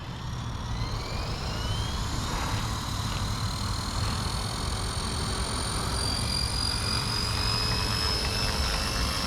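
Blade Fusion 180 Smart RC helicopter hovering in normal mode at roughly 60–65% throttle, a steady continuous whine of rotor and motor with a rising pitched tone, loud and close, alone without talk.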